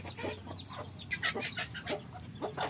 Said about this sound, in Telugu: చూడండి ఫ్రెండ్స్, కొత్తవి 3 కోళ్ళు తీసుకొచ్చాడు పెట్టలు ప్రొడక్షన్ కోసం.